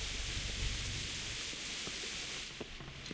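Steady rain in the Kingdom Come: Deliverance video game, a dense, even hiss of falling water with a few faint knocks, continuous and fairly loud with no voices.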